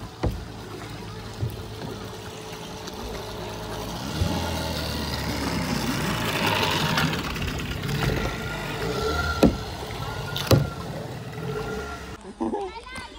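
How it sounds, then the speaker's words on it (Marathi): A motor boat engine droning steadily across open water near a beach, mixed with water splashes and people talking nearby, with a louder knock near the end. "मोटर बोट आहे."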